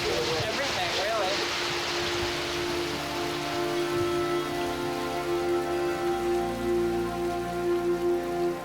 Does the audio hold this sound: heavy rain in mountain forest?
yes